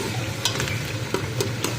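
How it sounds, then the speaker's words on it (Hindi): Spoon scraping chillies off the sides of a pan while they fry, a dense close sizzle with several short scraping strokes over it and no voices. "ये चम्मच की मदद से ये साइडों पर लगी हुई मिर्चों को भी हम अच्छे से खुरच लेंगे,"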